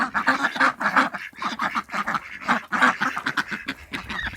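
Several ducks quack in quick overlapping bursts, loud and close, a busy chattering flock with brief pauses between calls.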